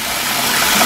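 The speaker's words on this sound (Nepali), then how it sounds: "यसरी चिसो पानीले धुनु पर्छ हैन, चिसो हुन दिनु पर्छ." Cold water runs steadily over cooked spicy Korean ramen noodles being rinsed, a continuous close hiss and gush of water with no pauses and no talking.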